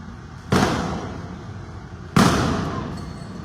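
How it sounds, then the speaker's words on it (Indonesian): At a riot beneath the Slipi flyover, where police fire tear gas and firecrackers are thrown, two sharp, loud bangs sound about a second and a half apart, each followed by a fading, echoing tail. "Ya, menembakkan gas air mata."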